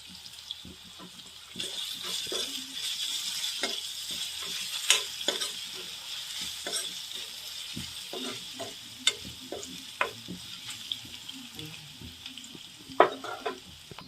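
Ginger paste and turmeric fry in a pan for Telangana-style chicken fry, with a soft, steady sizzle and scattered clinks of a spoon stirring. Running water is briefly audible, and the whole stays fairly quiet and close.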